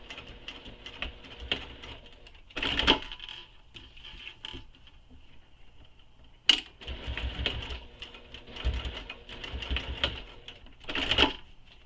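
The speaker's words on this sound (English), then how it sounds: "we're going to top stitch along the tab using the seam allowance given in the pattern" A sewing machine top stitches along a backpack tab in several runs of rapid mechanical chatter, each broken by short pauses and sharp clicks.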